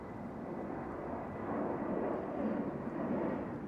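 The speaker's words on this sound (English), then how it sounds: "And you can hear another aeroplane up there" A low-flying aeroplane passes over a suburb near Perth airport, a distant, faint broad rumbling roar that swells slightly toward the end.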